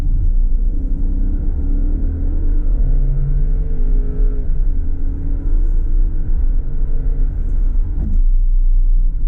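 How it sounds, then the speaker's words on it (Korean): A Genesis EQ900 large sedan's engine revs and accelerates with a deep, steady growl and exhaust rumble, building continuously with no voices. "배기음, 엔진 사운드 매우 멋있어요."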